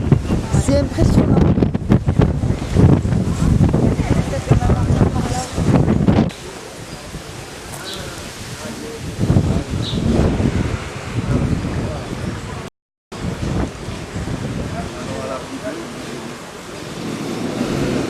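Strong Mistral wind buffets the microphone in a Provence village, loud rumbling gusts that roar hard at first, then ease to a steadier rushing with intermittent surges.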